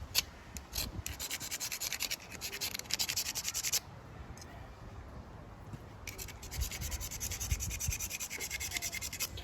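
Fire starter being scraped beside a charcoal grill outdoors, a steady close rasping scrape that runs continuously with bursts of harsher strokes and brief pauses, no talk.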